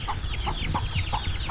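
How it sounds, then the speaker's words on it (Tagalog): Chickens on a farm cluck close by in a quick series of short, repeated calls over a low background murmur, with no voices. "Marami ng manok, marami na namang pabo, may bibe."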